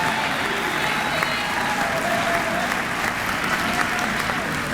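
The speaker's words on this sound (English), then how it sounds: "Please stand, rise, turn, and applaud the faculty, the outstanding faculty of Bowie State University." An audience at a university winter commencement ceremony applauds the faculty, with a loud, dense, continuous sound of many hands clapping in a large hall and a faint murmur of voices beneath.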